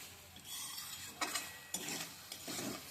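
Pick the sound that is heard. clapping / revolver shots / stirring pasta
stirring pasta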